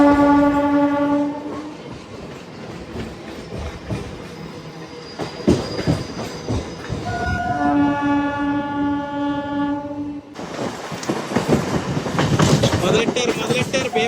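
Kazipet–Secunderabad MEMU train (67764) running on the line, with a loud horn blaring twice over rumbling wheels and clattering rails, heard close from on board while people talk.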